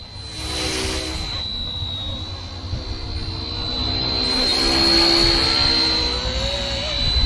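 A WLtoys XKS K-Series Black Hawk-style RC helicopter hovers outdoors, its small motor and rotors giving a steady high-pitched whine over a broad airy rush that swells slightly midway and holds close and fairly loud throughout.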